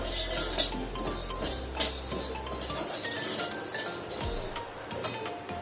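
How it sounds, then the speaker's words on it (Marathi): Coriander seeds and cumin dry-roasting in a pan over medium flame, stirred with a utensil that scrapes and clinks against the metal in a steady, close run of soft rattles with no talking. "धने जिरे अगोदर भाजून घ्यायचे आहे"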